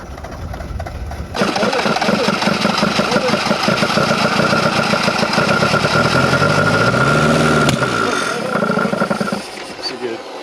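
An abandoned Mitsubishi-made Dodge Ram 50 that sat for over a decade cranks and catches, its engine running rough and loud with a fluctuating, shifting tone before dropping off near the end, while people talk over it.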